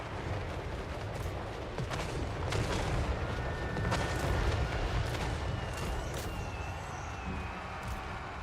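Mortar battery firing in a Total War battle, dense booming artillery thumps and rumbling impacts layered over a continuous roar of combat, with sharp cracks scattered throughout at close to mid distance.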